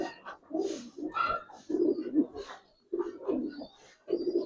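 Giribaz pigeons of a silver, old-generation breed coo in repeated throaty bursts close by, with someone talking intermittently between and over the calls.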